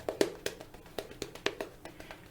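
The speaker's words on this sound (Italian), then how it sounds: "il pennello nella crema, nella ciotola, è un rumore di barberia" A shaving brush swirls and taps in a bowl of shaving cream, a quick series of soft wet clicks and dabs, close up and fairly quiet.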